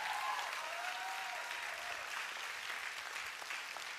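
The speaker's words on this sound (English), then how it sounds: "Somebody clap your hands like you're going to go." Church congregation clapping their hands during a sermon, a dense, steady wash of applause filling the room at an even level, with a faint voice or tone rising briefly near the start.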